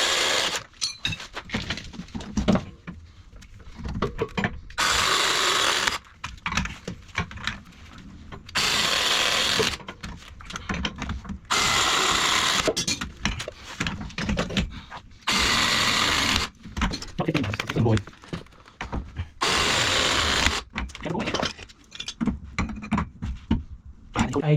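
A core drill bores a 3-inch hole through a boiler room wall, the grinding cut coming in repeated loud bursts separated by shorter pauses with handling noise.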